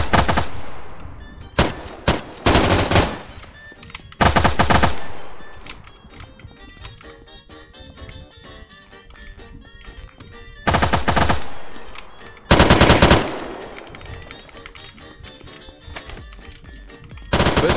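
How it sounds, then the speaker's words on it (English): Gunfire in the video game Unturnov, loud bursts of automatic fire in several volleys with quieter gaps of distant shots and background game sound between them. "You want to move while people are shooting so that the other guys can't hear you."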